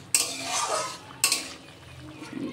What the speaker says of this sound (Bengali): তো তরকারিটা একটু নেড়ে দিই